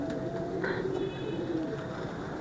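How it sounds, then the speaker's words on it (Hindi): A Jailer breed pigeon coos softly, with low, murmuring coos repeating against a steady background hum. "ये जेलर ब्रीड का कबूतर है जी ये।"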